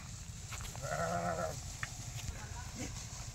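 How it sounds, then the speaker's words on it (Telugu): A sheep gives a single wavering bleat close by, lasting under a second, against a low, steady background rumble with faint scattered sounds. "గొర్రెలు బాగున్నాయి, చూడండి."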